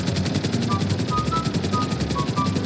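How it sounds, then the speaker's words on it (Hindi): A helicopter in GTA 5 flies with a steady, rapid rotor chop and engine whine that carry on continuously, close and fairly loud. "ये अपुन तो हेलीकॉप्टर भी उड़ा रहा है"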